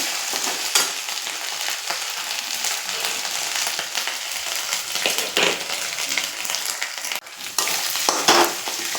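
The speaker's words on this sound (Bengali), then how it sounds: "ভাজা ভাজা হয়ে যাচ্ছে" Ginger paste sizzles and crackles in a hot pan, steady and close, with a spoon occasionally scraping as it is stirred while cooking a paneer vegetable dish.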